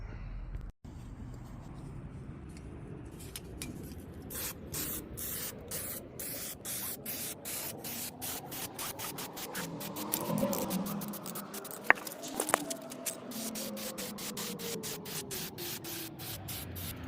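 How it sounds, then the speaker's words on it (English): An aerosol can sprays a black coat onto a 1970 Chevelle transmission crossmember in a long continuous hiss, with short bursts and taps at the start and a few clicks near the end, close and steady. "spray the black coat."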